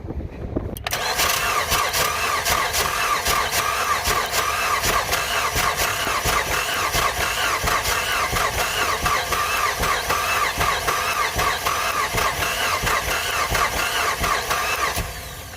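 A GMC Acadia with a suspected bad ignition coil, after being immobilized, cranks continuously and tries to start, a steady, loud, close mechanical churn that starts abruptly and runs unbroken for about fifteen seconds.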